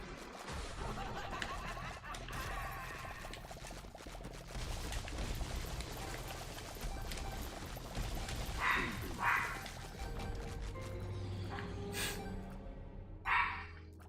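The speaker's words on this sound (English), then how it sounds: "Oh, that's the dog going bork, bork, bork. She's just barking a bunch." A female pet dog barking a handful of times, short sharp barks standing out over steady background game sound and music.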